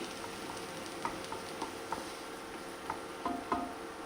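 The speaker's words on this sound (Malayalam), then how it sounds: "നമ്മൾ നല്ലോണം ഒന്ന് വഴറ്റിയെടുക്കാം നല്ലോണം വേണ്ട പകുതി വഴറ്റാൽ മതി" Onions being sautéed in a pan, a soft low sizzle broken by scattered light taps and clicks of a spatula against the pan, quiet and fairly close.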